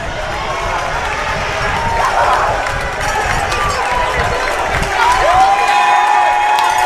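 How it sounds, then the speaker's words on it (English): A crowd cheers and shouts steadily at a high school water polo game between The Haverford School and Episcopal Academy in its final seconds, loud and sustained, with an announcer talking over it. "Haverford getting the crowd fired up for the final 9 seconds of this one"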